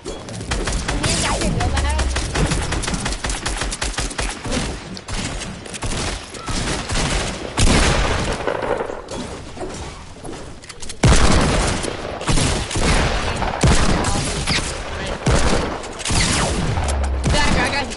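Video game shootout gunfire rattles almost nonstop, loud rapid volleys and booming shots crowding the whole stretch, with brief lulls and a sharp burst around the middle.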